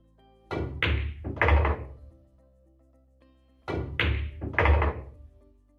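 Pool cue strikes on a cue ball with a smooth follow-through stroke, each shot giving a close knock followed by balls clacking together; two separate shots, loud and near, with quiet between them.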